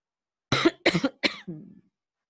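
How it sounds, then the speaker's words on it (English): Three sharp coughs in quick succession, close and fairly loud, followed by a softer rasping throat sound trailing off. "I can't stop coughing."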